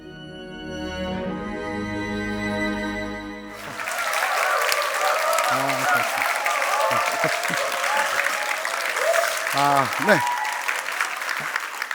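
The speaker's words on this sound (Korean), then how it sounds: "이러한 박수는 개그맨들이 행사 MC로 등장했을 때 나오는 그러한 박수인데" Concert music ends and an audience bursts into sustained, dense applause that carries on steadily, with a couple of short spoken interjections.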